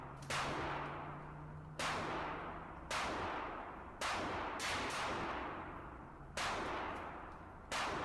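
An ATI semi-automatic shotgun fired slowly: seven sharp, loud blasts spaced roughly a second apart, each trailing off briefly before the next, with no voices.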